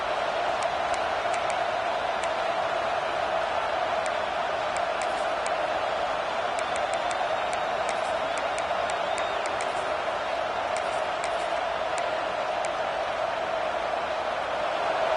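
A stadium crowd in a college football video game keeps up a steady broad roar throughout, a dense continuous wash of cheering with faint scattered clicks and no distinct voices.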